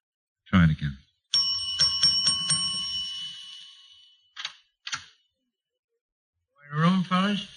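A door bell at a hotel rings in a quick run of bright metallic dings, close by, with voices speaking just before and after.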